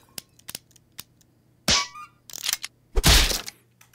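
Sharp gunshot cracks from the Henry Stickmin video game: a few faint pops, then two loud bursts close together, the last the heaviest, with no talk over them.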